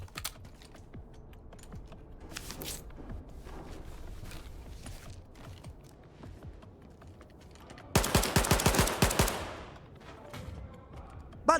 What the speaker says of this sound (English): I'll shoot like one more guy.